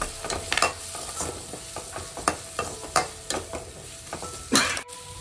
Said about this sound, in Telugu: ఇప్పుడు ఇందులో కొంచెం పసుపు వేసుకోవాలి, మిక్స్ చేసుకోవాలి